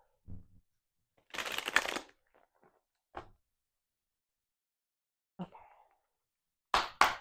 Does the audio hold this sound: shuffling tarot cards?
yes